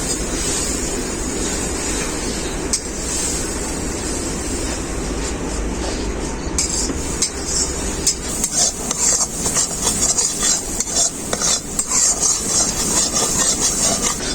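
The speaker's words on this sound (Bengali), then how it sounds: "মশলাটাকে আমি খুব ভালো করে কষিয়ে নেবো" Spice paste (masala) with a little water being sautéed and stirred in a pan for a pumpkin-leaf and egg dish, a continuous loud sizzle with repeated scraping strokes of the spoon that grow more rhythmic toward the end.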